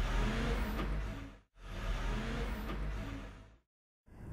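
A truck drives through the Eastern Sanitary Landfill toward the scale house, giving a loud, steady engine and road rumble that cuts out briefly, then returns before a short silence and a restart near the end.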